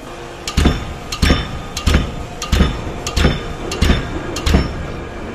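A hydraulic breaker hammering at an adjusted strike frequency, seven loud, sharp metallic blows in a slow, even rhythm, close by, with a faint hum between strikes.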